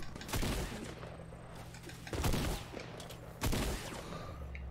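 Three loud gunshot blasts in the Fortnite battle royale, spaced about a second or more apart, each a sharp broadband crack with a ringing tail, over steady game ambience with faint bird calls.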